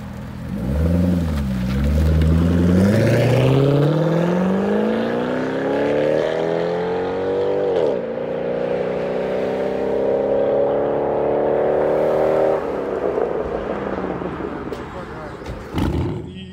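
A Chevrolet Corvette with the LS2 6.0L V8 roars up through its revs, then holds a steady, loud, close drone before dropping off near the end.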